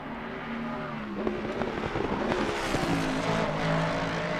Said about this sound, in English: Beautiful sound that big V8 makes.